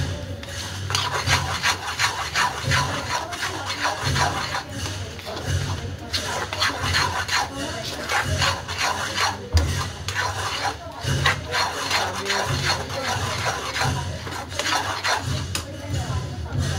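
A spoon scraping and stirring a thick besan (gram flour) mixture in a pan, repeated rasping strokes in a steady back-and-forth rhythm, close and moderately loud, with someone talking intermittently over it.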